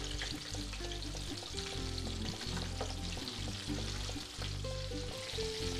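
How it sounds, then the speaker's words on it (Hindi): Chicken pieces fry in hot oil until golden and crispy, giving a continuous close sizzle and crackle with scattered pops, steady and fairly quiet throughout with no voices. "तो हम चिकन को अच्छी तरह से क्रिस्पी होने तक गोल्डन फ्राई करके लेंगे अच्छे से"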